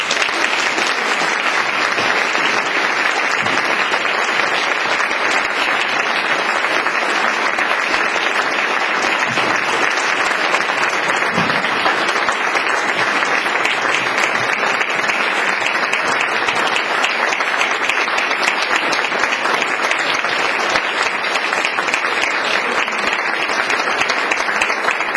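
Sustained audience applause at a broadcasting award ceremony, dense steady clapping from a large crowd that stays loud and even for the whole stretch without letting up.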